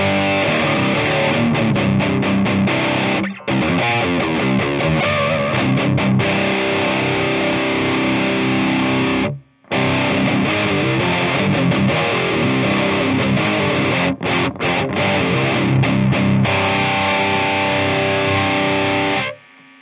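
Heavily distorted electric guitar run through a Metal AMD-1 amp pedal, played loud and cranked with thick sustained chords and riffs, broken by a couple of brief stops.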